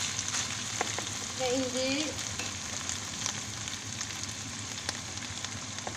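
Meat frying in a pan, seasoned with salt and pepper, gives a steady close sizzle, with a brief voice speaking over it partway through.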